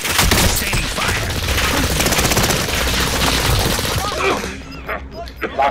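Rapid sustained automatic gunfire rattles loudly in the Call of Duty: Modern Warfare video game, with dense bursts overlapping and fading near the end, and voices talking beneath the shooting.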